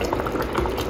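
Stew bubbles and gurgles steadily in a covered pot, a soft continuous simmer close by.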